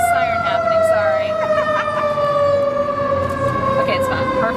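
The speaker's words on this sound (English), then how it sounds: "There's a siren happening, sorry." An emergency vehicle siren wails outside in a city, a loud sustained tone sliding slowly downward with steady background hum.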